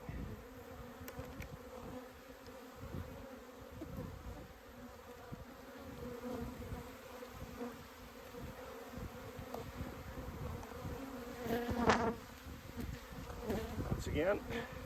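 A steady, dense hum of many honey bees buzzing close up at an open hive during an inspection, continuous throughout with a slight rise toward the end.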